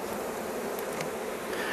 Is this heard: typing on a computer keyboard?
no